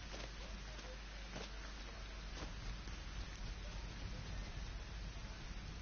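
Steady rain in the Fortnite video game, a continuous hiss of falling drops with faint scattered pattering, even and unbroken throughout without any talk.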